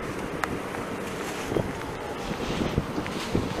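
Steady wind roars and buffets the microphone outdoors high above foggy Manhattan, a constant broadband rush with small gusts throughout and no speech.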